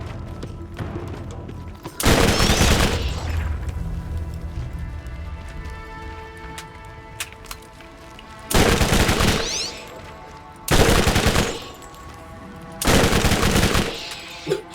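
Bursts of rapid automatic fire from the Double Anarchy gun in Borderlands, four loud volleys of a few seconds each separated by quieter game ambience, with no talk over them.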